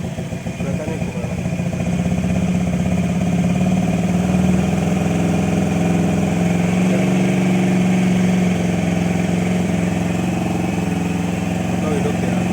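A petrol motorcycle converted to run on LPG without changing the carburetor idles steadily after starting, a continuous mid-pitched engine drone that sits close and fairly loud from start to end.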